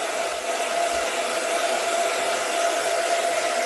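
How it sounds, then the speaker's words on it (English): A handheld hair dryer blowing steadily at close range during a round-brush blow-dry styling, a continuous even whoosh with a faint high motor whine and no pauses. "take the dryer"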